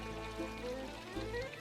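A garden grotto's series of waterfalls cascades down a hillside bluff into a pond in Central Texas, making a soft, steady pouring and trickling wash that continues without a break.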